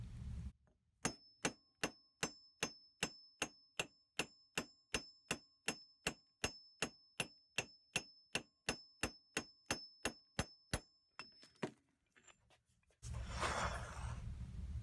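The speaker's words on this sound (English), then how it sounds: "I'm just going to try and bend this back using my lucky hammer and some draw strikes." A hammer delivers about thirty glancing draw strikes to bend bent metal from a Dake press back flat, each a sharp ringing clang in a steady even rhythm, loud and close, followed by some scraping and handling noise.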